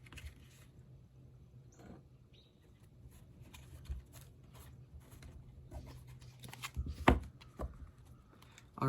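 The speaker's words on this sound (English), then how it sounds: "One more shuffle." A deck of tarot cards gets one more hand shuffle, producing light irregular papery rustles and taps that build to a brief louder flurry of card slaps toward the end.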